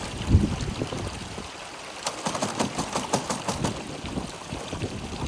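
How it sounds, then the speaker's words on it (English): A gold sluice box in Ash Canyon runs again after being switched on, with water rushing and splashing through it over a low engine hum, plus scattered trickles and gurgles, and no voices. "Now we want to clean out the sluice box a little better, so we go ahead and turn it back on."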